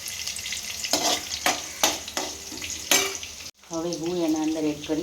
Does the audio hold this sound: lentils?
yes